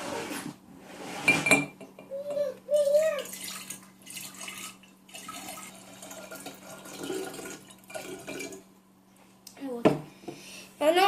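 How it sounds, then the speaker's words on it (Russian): Clinks and clatters of a container being handled on a hard surface as an egg is placed in it, followed by a short trickle of water, with a voice talking throughout. "Возьмем яйцо, положим в обычную емкость и добавим чуть-чуть воды."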